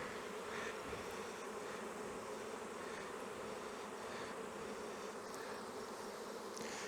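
Honeybees buzz around a small hive in a steady, dense drone, a continuous swarm hum held at an even level throughout with no voices.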